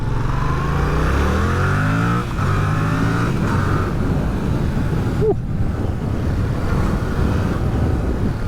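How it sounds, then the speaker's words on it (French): Yamaha MT-07 (2022, A2 version) on its stock exhaust, revving in a low, continuous engine drone with a pitch that climbs and dips as the throttle moves, fairly loud and steady throughout. "Non franchement c'est un pot d'origine, ça fait pas trop de bruit mais ça va encore"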